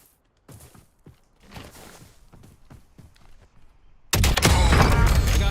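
Gunfire from the Call of Duty Verdansk map: scattered quiet shots and footstep-like clicks, then a sudden loud, dense burst of rapid fire that fills the last second and a half.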